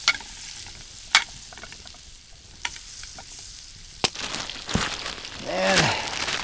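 Butter sizzles in a pan at a snowy red-rock campsite in Utah, a soft frying hiss with scattered scrapes and clatters of cookware, swelling louder toward the end.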